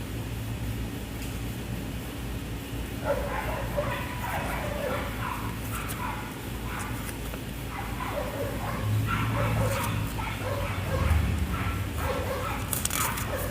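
Dogs yipping and whimpering in short bursts over a constant background hum, moderately close, with scattered barks toward the end.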